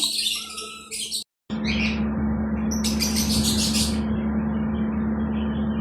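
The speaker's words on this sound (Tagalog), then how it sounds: "Ang ibon." Pet birds chirping during hand-feeding, with bright repeated tweets and squawks close to the microphone over a steady background hum, broken by a brief gap of silence.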